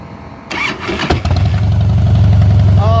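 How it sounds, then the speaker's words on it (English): A 2007 Harley-Davidson Softail Custom V-twin is cranked: a brief starter whir, a catch and a loud rev, then the engine settles into a deep, loping idle close by. "Oh, nothing like that Harley V-twin."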